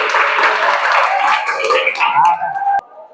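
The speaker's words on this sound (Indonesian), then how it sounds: "Silakan tepuk tangan untuk mereka berdua." Applause from a classroom of junior high students for two classmates, a dense burst of many hands clapping that thins out and stops abruptly near the end.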